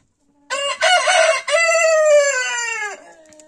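A Splash Wyandotte rooster crows one long, loud, close cock-a-doodle-doo in a poultry run, followed by faint clucking.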